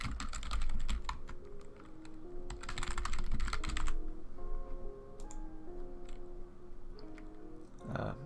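Fingers type a business name on a computer keyboard in quick, uneven bursts of close clicking, with short pauses between the flurries of keystrokes.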